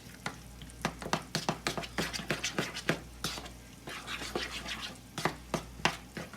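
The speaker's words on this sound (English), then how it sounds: "Alright, we're just going to stir all this up." A spoon briskly stirs a wrap sauce seasoned with black pepper, a fast run of close, loud scraping strokes in an uneven rhythm over a low hum, with no talking.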